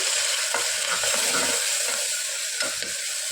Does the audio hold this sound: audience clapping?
no